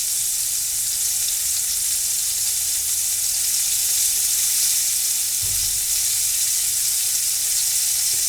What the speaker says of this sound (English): And they're cooking like, you can see, just like fresh pork chops. The same thing going on in the pan.